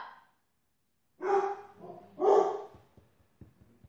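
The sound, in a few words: dog barking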